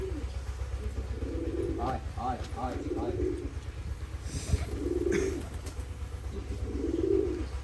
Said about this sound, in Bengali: কবুতর তো নেমে গেছে এখন ধরেন